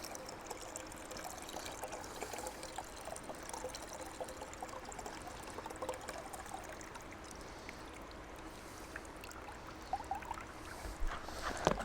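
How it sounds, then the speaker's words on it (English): Water flooded over 2mm fishing feed pellets, shaken and drained off, giving a steady close pouring and trickling wash with a louder splash near the end. "What I like to do is flood the mix, give it a shake, and then just take the water straight off again."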